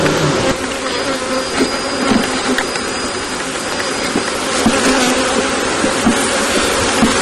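Honey bees buzz steadily and loudly at an opened wooden beehive box holding larvae, a dense continuous drone of many wings close by, swelling slightly in places, with no talk over it.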